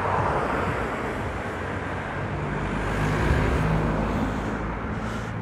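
A bus passes along a street in Timișoara, a broad steady engine-and-road rumble with wind buffeting the microphone, swelling slightly midway as it goes by, with no talking.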